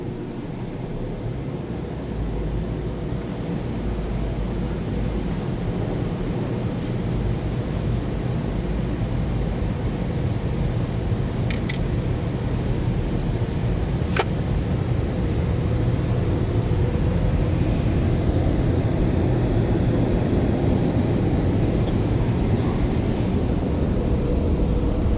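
A touchless car wash machine runs at a Gulf gas station at Topanga Canyon and Saticoy, giving a steady, loud broadband rumble and hiss that holds unbroken for the whole stretch with no voices.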